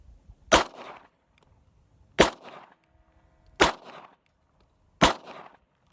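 Four sharp pistol shots from a Walther P38 strike an aluminum case, evenly spaced about a second and a half apart. Each is a loud crack followed by a short metallic ring.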